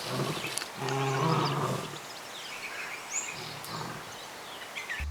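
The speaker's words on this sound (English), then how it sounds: "we just got to hear the lions roar, which was a pretty cool" Lions at Werribee Open Range Zoo, an open-range wildlife park, give a deep, rumbling roar in a short series of pulses. Fainter grunts and distant birdsong follow over quiet outdoor ambience.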